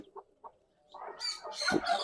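A hen gives soft low clucks, followed by a cluster of high, rapid cheeping from newly hatched chicks close by.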